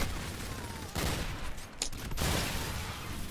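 Video game gunfire, bursts of rapid shots crackling under a steady background hum, with a couple of sharper, louder volleys in the middle of the short stretch.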